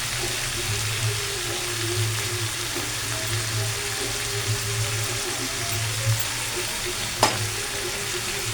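Steamed spinach with fried vegetables sizzling in a hot pan, a continuous close crackling hiss with a low steady hum underneath and one brief clink near the end.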